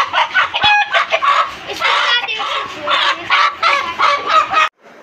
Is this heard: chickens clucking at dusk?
yes